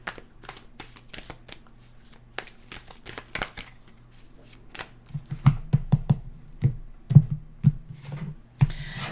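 Tarot cards shuffled by hand for a daily reading: a quick burst of crisp riffling clicks, a pause, then a denser run of flicking, slapping shuffles up close, with no talk.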